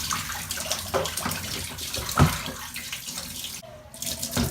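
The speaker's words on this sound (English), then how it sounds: "just dump out this cold water rinse" Cold rinse water dumped out of a cloth diaper bucket during handwashing, a continuous splashing gush of water pouring and draining, fairly close and loud with a brief lull near the end.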